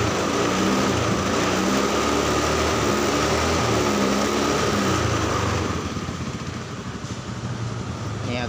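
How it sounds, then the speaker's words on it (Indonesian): Honda Scoopy carburetor motorcycle engine idling steadily with a loud, buzzing, fan-like drone. The engine note drops and softens near the six-second mark and then continues more quietly, with no talking. "Kalau seperti ini motor hidup tapi sedang melakukan pengisiannya"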